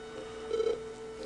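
A cell phone rings faintly in a quiet room, one short tonal chime swelling briefly in the middle and then fading.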